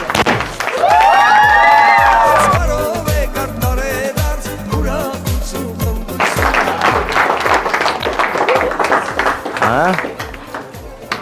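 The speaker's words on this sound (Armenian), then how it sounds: "Ծափեր ենք տալիս։" An audience at an 18th birthday party claps in a steady rhythm and cheers, loud and close, while voices call out and sing along over the applause.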